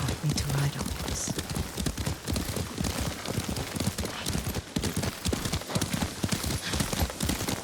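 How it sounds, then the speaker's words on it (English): Horse hooves clip-clop in a steady, rapid rhythm while riding through Ghost of Tsushima, loud and continuous throughout, with a faint whinny near the start. "Lord Sakai taught me to ride a horse."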